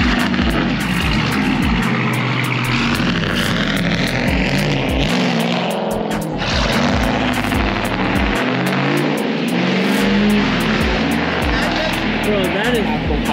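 Loud truck engine heard from outside at a street car launch, roaring continuously with revving surges and a brief dip midway, as people talk and shout over it nearby.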